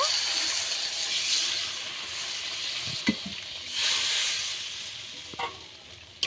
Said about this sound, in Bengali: এবারে জল দিয়ে দেব, পরিমাণ মতন জল দেব।